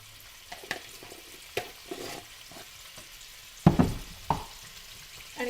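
Salted kohlrabi pieces dusted with turmeric sauté quietly in a pan, with a faint background sizzle and a few sharp spoon clinks and scrapes, the loudest near the end.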